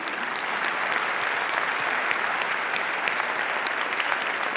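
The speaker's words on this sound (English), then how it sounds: "A big applause to our panelists." An audience at a conference opening ceremony applauds panelists, a dense and steady burst of clapping from many hands that stays even throughout.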